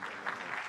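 Audience applause from a conference session crowd, a steady dense patter of clapping hands filling the room throughout, moderately loud with no voices over it.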